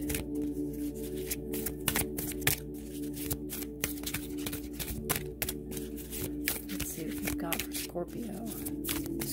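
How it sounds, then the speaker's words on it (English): Law of Attraction oracle cards are shuffled by hand in a steady run of close, crisp riffling flutters and snaps, with soft speech nearby. "we are going to pull a card from Esther and Jerry Hicks"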